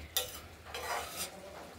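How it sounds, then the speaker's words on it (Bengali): Cabbage curry with potatoes is stirred in a pan, giving a few faint scraping, sizzling strokes of a spoon over a quiet background. "আমরা বাঁধাকপিটা একটু নাড়াচাড়া দিয়ে দিলাম।"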